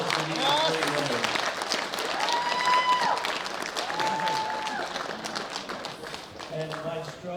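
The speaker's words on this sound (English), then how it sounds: "Big round of applause for these three winners." An audience at a world bench press championship applauds the winners with steady clapping from a crowd, while announcer-like speech and brief tones sound over it.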